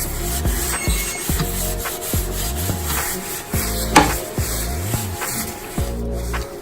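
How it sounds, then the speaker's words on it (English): A rag wiping melted butter off a hot griddle in a home kitchen, with rhythmic back-and-forth rubbing strokes, close and fairly loud, repeating steadily with no talk. "So first she's just wiping off the griddle."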